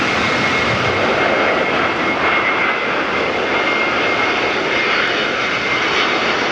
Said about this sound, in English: What kind of performance will the Pratt & Whitney equipped Neo give us?